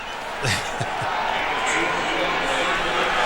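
Stadium crowd noise at an NFL game between the New York Jets and New England Patriots, a steady broad roar of thousands of fans filling the clip, with a few brief thumps early on and no voices standing out.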